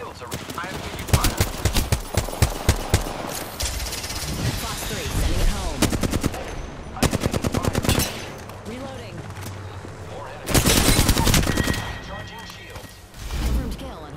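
Heavy automatic gunfire erupts in a fast-paced Apex Legends battle, bursts of rapid shots and louder volleys breaking out repeatedly, with game character voice lines and talk mixed in between the bursts.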